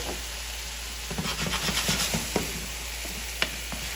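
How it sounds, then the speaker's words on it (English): Garlic sizzles and fries in a hot pan after a splash of tequila, with stirring scrapes, a steady hiss and a couple of sharp clicks near the end. "I then like to deglaze with 1 ounce of tequila."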